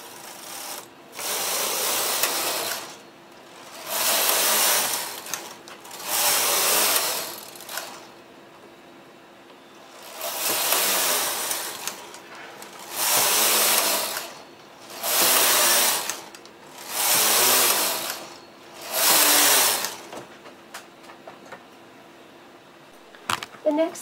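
Knitting machine working rows of a baby hat hem, a carriage swept back and forth in seven loud, rasping whirring passes of about two seconds each, separated by short quiet gaps, with small clicks at the end.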